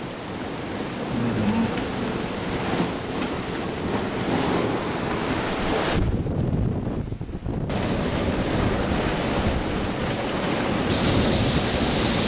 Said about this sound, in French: On a encore des vents de 20 nœuds par contre.